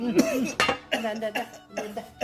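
A person coughing several times in short bursts, close and fairly loud, mixed with chuckling and voices talking.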